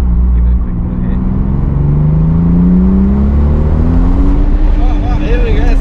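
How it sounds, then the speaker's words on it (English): A Toyota Supra with a 3.0-litre twin-turbo 2JZ engine accelerates with wheel spin, a loud rising engine drone climbing in pitch over several seconds, heard from inside the car with a voice under it. "Oh, here we go, some wheel spin."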